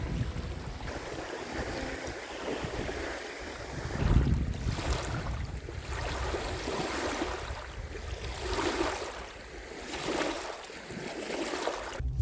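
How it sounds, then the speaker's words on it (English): Waves wash onto the beach at Lake Francis in a steady rolling rush, with gusts of wind buffeting the microphone and swells rising and falling every few seconds. "All you can hear is the waves crashing on the beach."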